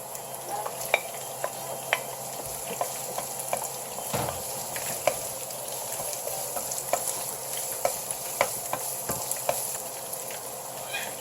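Ginger and garlic stir-fried in hot oil for ginataang tilapia, a steady soft sizzle under a spatula's scrapes and taps against the pan, close up, with no talking.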